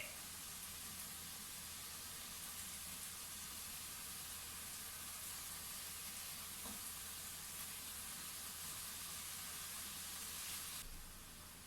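Spiced salmon with cinnamon sizzles in a pot as it is stirred, a close, steady hissing sizzle with a faint scrape partway through and a slight change near the end.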